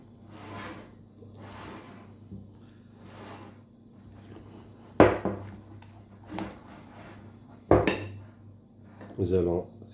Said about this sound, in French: Vous mélangez bien votre crème.